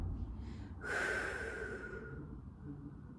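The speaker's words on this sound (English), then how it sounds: "Deep breathe out. Breathe in." A single long, deep exhale during a Pilates core exercise, close and breathy, swelling and then slowly fading, with a faint softer breath just before it and no talking.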